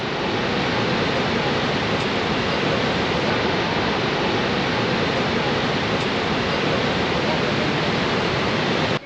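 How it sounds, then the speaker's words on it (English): Niagara Falls waterfall roaring in a dense, steady wash of broadband noise, loud and unbroken throughout with no pauses or distinct events. "The Niagara Falls."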